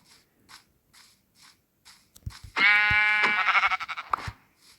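A single drawn-out sheep bleat rings out clearly for about two seconds, preceded by soft rhythmic footstep-like taps in an otherwise quiet game scene.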